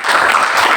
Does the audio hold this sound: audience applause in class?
yes